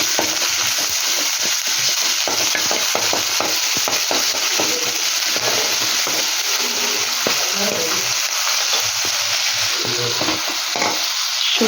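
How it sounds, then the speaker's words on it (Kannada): Ginger garlic paste frying in hot oil with curry leaves and green chillies for a mint chicken fry, a loud, steady, dense sizzle carrying on throughout with frequent scraping stirs and faint talk underneath. "ಹಸಿ ವಾಸನೆ ಹೋಗೋ ತನಕ ಚೆನ್ನಾಗಿ ಫ್ರೈ ಮಾಡ್ಕೊಳ್ಳಿ"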